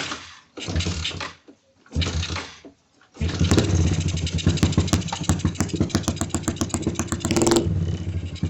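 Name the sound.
motorcycle engine sputtering at low rpm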